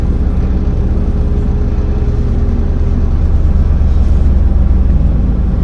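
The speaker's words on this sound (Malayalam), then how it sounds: "വണ്ടി ഞാൻ സ്റ്റാർട്ട് ചെയ്യാം" A car engine idles steadily with a low, even rumble throughout, heard during a four-wheeler driving road test after the car is put in neutral and started.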